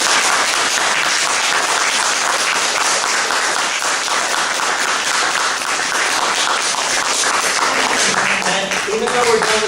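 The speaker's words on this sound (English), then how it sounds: "Round of applause." Loud, dense applause from a large audience at an award ceremony in Amherst, Massachusetts, sustained throughout, with a voice emerging near the end.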